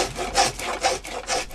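A traditional Korean hand plane, an old tool handed down from a father, shaves rounded edges on a wooden soban tray in a Tongyeong woodworker's shop. It makes steady, rhythmic rasping strokes, about two per second, close and clear with no talk.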